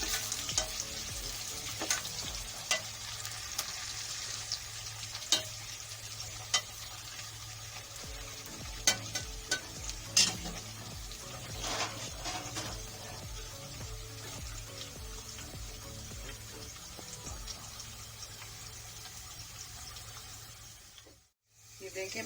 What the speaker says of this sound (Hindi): प्याज को फ्राई करना है, बस लाइट गोल्डन फ्राई करना है।